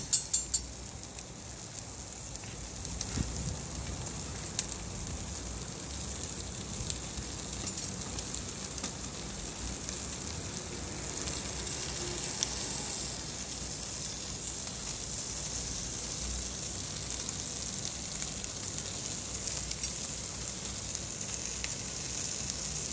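Chicken, fish, shrimp and corn sizzle on an outdoor grill in hot weather, a steady crackling hiss that runs continuously at a low, even level with no voices.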